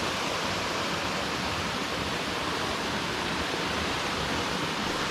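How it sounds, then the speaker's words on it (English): A rolling brook flowing beneath philodendrons on a hiking trail, a steady, dense rush of water close by, constant and unbroken with no voices. "here we are at this beautiful rolling brook underneath the philodendrons"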